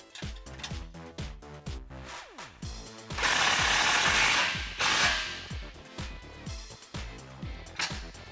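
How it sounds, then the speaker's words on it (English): Steady ratcheting of a wrench and deep socket tightening bolts at the back of a crash bar during a Jeep Wrangler JK skid plate install, rhythmic clicks close up, interrupted midway by louder mechanical noise. "Using a 16mm wrench and a 17mm deep socket, tighten down the bolts at the back of your crash bar."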